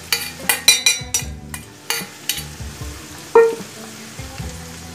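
Ground soybean paste added to a pan of already fried onions, a soft sizzle under a run of sharp utensil scrapes and clinks against the pan, close, with no talking.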